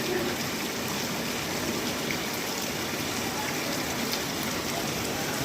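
Steady rain pours over a Pakistani village, a dense, even hiss of drops on surfaces with running water beneath, continuous and close throughout.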